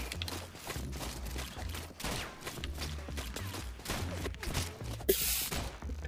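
Rapid gunfire from the ROUNDS video game, dense overlapping shots crackling steadily throughout with a louder burst near the end, busy and continuous.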